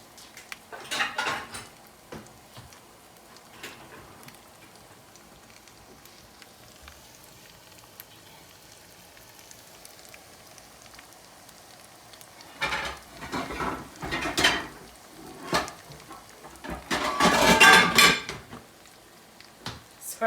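Pots, pans and a lid clattering in a home kitchen, scattered metallic clanks and scrapes in short bursts, with quiet stretches between and a louder cluster near the end.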